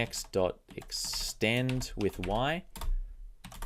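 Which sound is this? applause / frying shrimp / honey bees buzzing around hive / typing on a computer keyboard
typing on a computer keyboard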